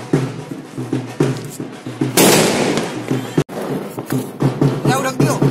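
A sutli bomb firecracker set off during Diwali celebrations, heard as a loud sharp blast near the midpoint with a broad crackling burst, while people talk and other festival crackers pop around it.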